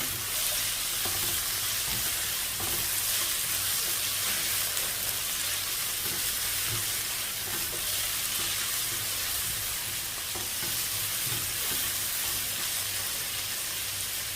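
Carrots and other vegetables fry in a hot pan with a dense, steady sizzle that stays loud and even throughout, with no talking over it.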